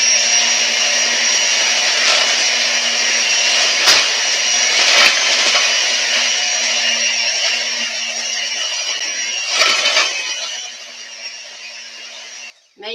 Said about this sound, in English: You don't want to blend too high because your flour and